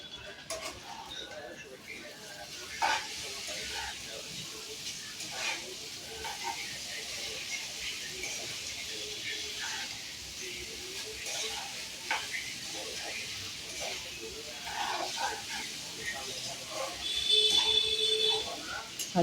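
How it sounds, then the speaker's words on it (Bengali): Maggi noodles frying in a pan: a steady broadband sizzle and hiss with occasional stirring scrapes, heard close up while someone talks. "ভালো করে ভেজে ম্যাগিটাকে সুন্দর করে তারপরে নামাবো।"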